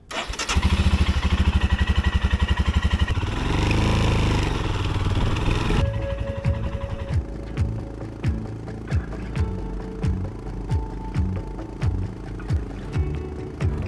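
A Royal Enfield motorcycle revs hard with a steady throbbing engine near the start, then pulls away and settles into a rhythmic, chugging ride with regular gear-change dips and clatter, loud and close without talk.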